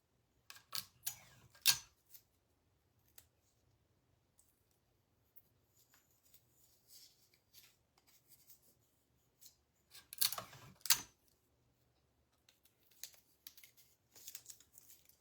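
Adhesive tape is pulled and torn while fastening a design onto a sublimation blank, heard as a few sharp, close ripping bursts near the start and again midway, with quieter handling rustles and small clicks between.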